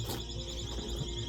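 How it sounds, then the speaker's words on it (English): Several store alarms sound at once inside a Ross discount store, a steady high electronic tone droning continuously over the busy, murmuring shop ambience. "how many alarms are going off?"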